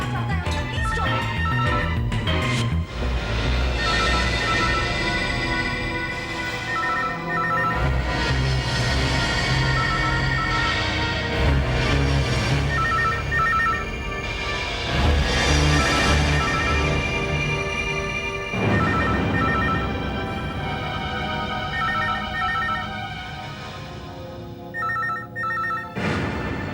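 A telephone rings repeatedly inside a house, a loud insistent bell pattern layered over tense dramatic music with no speech.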